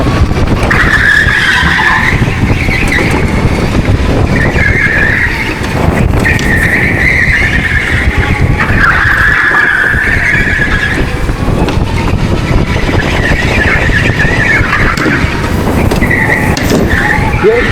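A go-kart at TeamSport High Wycombe is driven hard on a fast lap. A loud, continuous drone rises and falls through the corners, with repeated tyre squeals and skids close by.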